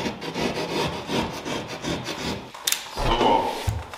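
A hand rasp scrapes back and forth along the edges of a drywall patch in quick, rhythmic strokes, close and fairly loud, with no speech.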